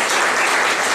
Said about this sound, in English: Let us give a big clap for them.